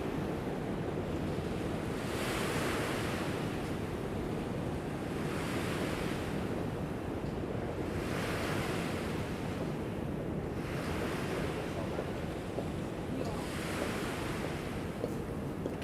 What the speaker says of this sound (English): The waves are crushing.